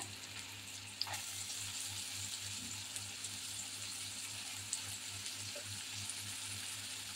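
Chopped onion frying in hot oil in a pan on a slow-medium flame, a steady close sizzle with faint stirring clicks, no talking.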